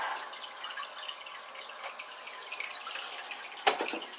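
Water trickles and drips steadily as fish are released into a Red Blood Parrot aquarium tank, with a single sharper splash near the end; no one speaks.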